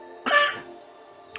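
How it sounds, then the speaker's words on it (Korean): A single sharp cough bursts out close to the microphone, loud for about a third of a second, then trails off into quiet, with a faint second catch at the very end. "아침에 기침이 많이 나오네요."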